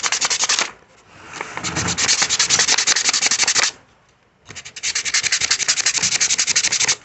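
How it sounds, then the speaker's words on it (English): Carved wood being hand-sanded with cheap 220 grit sandpaper: steady, rapid back-and-forth rubbing strokes in long close bursts, with a brief pause between passes and no talk. "see if you can sand it out"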